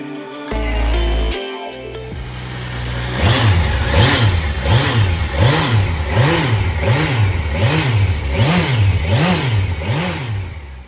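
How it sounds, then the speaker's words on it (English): A 2024 Kawasaki Versys 1000 S Grand Tourer with its 1000cc engine, loud and close. A throttle blip opens the clip, then the engine settles into a steady, rhythmic run, revving in regular pulses. "Uses that lovely 1000cc engine that obviously the Kawasaki is known for."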